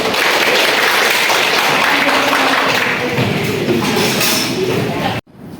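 A classroom of students clapping hands together in a dense, loud burst that continues steadily, then stops abruptly near the end.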